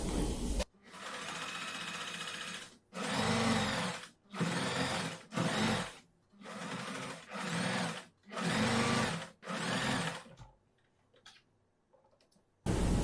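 A sewing machine stitches the armhole curve of a girls' summer dress in a series of close, loud whirring runs, each a second or two long, separated by brief stops and ending in quiet.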